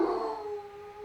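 A single dog howls nearby, a sustained tonal wail that starts loud and slowly fades, heard alone.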